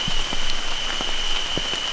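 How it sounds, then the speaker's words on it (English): Heavy rain drums steadily on a Snugpak Ionosphere tent in the woods at night, a dense close patter with scattered louder drops and a faint steady high tone. "It's been pouring rain since 7:30"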